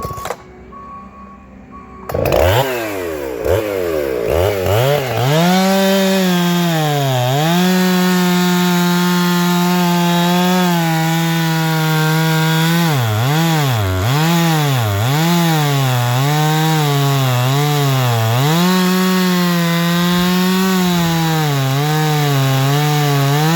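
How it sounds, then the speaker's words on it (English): A chainsaw roars close and loud, cutting through a massive old tree outdoors in the Adirondack mountains; the engine pitch rises and dips repeatedly as the chain bites and eases, running steadily with no talk. "I took the chainsaw and I went all the way across the top and all the way down both sides to the bottom"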